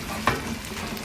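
Egg and lemon sauce for chicken fricassea hitting a hot pan with one sharp sizzle burst, then a soft steady frying hiss that carries on quietly to the end.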